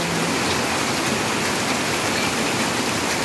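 Floodwater pours in steadily during heavy Typhoon Crising rain, a dense unbroken wash of rushing water and rain at constant loudness, close by, with no voices.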